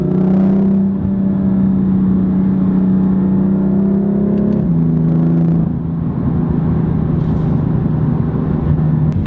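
A BMW M4 LCI Competition Package engine drones loudly and steadily, then the pitch drops as the throttle lifts, with a deep exhaust rumble and crackles continuing at close range.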